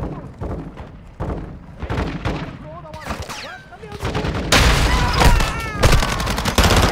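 Dense bursts of automatic gunfire and heavy thuds from a Call of Duty: Modern Warfare 2 firefight, loud and continuous, with shots overlapping and intensifying toward the end.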